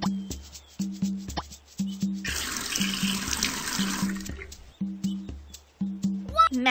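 Water gushes from a tap for a couple of seconds amid repeating game-like chimes and plinks, with brief bursts before and after, in the kids' game Dora's Magical Garden.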